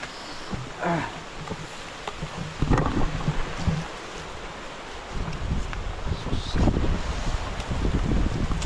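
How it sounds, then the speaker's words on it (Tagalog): Heavy rain pouring outdoors in a mountain area near a cave, a steady dense hiss with wind noise and occasional louder gusts, fairly close and continuous without talk. "lakas ng ulan."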